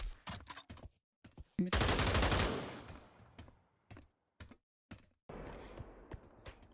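Gunfire in the VR shooter Pavlov during a murder-mystery round, a sharp burst of rapid shots followed by scattered single cracks and thuds, loud and close with gaps of near silence.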